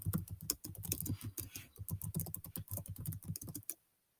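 Rapid typing on a computer keyboard, with dense, irregular key clicks running steadily for several seconds before stopping abruptly into silence.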